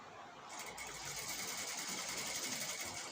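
A sewing machine stitches the neck of a star neck cross cut blouse, its motor giving a steady, soft, continuous whir throughout.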